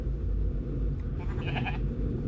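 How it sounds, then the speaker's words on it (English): A short, faint goat bleat in the video game D-Extinction rises briefly over a steady low rumble, heard once near the end. "Of all the things to hear, I didn't expect to hear a goat at that point."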